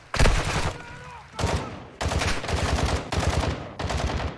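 Rapid video game gunfire crackles in several dense bursts separated by short gaps, loud and close, with sustained automatic-weapon rattle across the sequence.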